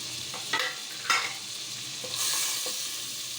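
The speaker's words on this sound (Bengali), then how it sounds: "এখানে 2টি দারচিনি দিয়ে দিচ্ছি, 2টি ছোট এলাচ দিয়ে দিচ্ছি আর 2টি তেজপাতা দিয়ে দিচ্ছি ছিঁড়ে।" Whole cinnamon sticks, green cardamom pods and torn bay leaves sizzle in hot butter, a close frying hiss broken by a few sharp crackles and stirring scrapes, swelling louder near the end.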